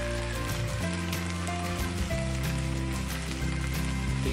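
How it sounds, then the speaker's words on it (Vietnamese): Beef stir-frying in a pan with baby carrots, giving a steady, close, loud hiss and crackle of sizzling that runs unbroken throughout with no talking. "Tiếng xèo xèo cực kỳ hấp dẫn, làm mình thèm ăn ngay."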